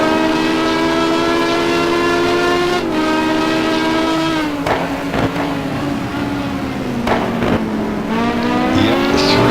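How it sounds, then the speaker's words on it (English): A GT1 race car engine roars loud and steady from the onboard view during a sim-racing event at Bahrain, its pitch rising and falling through gear changes while other cars howl close by. "we got all this engine noise coming at you in 3D stereo."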